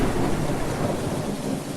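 Rain and thunder in a video game, a dense continuous hiss of rainfall blended with a low rolling rumble, steady and loud throughout with no voices.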